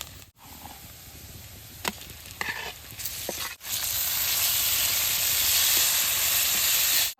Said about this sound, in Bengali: এখন বরুণ ফলটা দিয়ে দিব